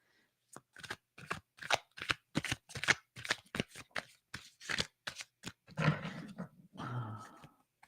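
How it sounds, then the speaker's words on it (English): A deck of cards being shuffled in a quick series of crisp riffling bursts, close and fairly quiet, followed by softer handling noise. "This is so hard to shuffle."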